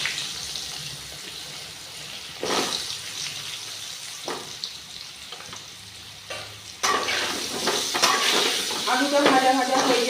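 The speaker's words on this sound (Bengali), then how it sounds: "আলুটা লবণ হলুদ দিয়ে ভাজবো" Potatoes fried in oil seasoned with salt and turmeric, giving a soft ongoing sizzle that is broken by scraping stirs and then grows into a louder, busier crackle toward the end.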